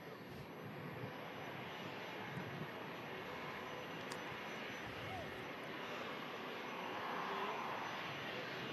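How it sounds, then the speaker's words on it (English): A Virgin Atlantic aircraft departing Manchester Airport produces a distant, steady jet rumble that slowly builds louder, with faint voices nearby. "it'd be rude not to film this Virgin Atlantic departure"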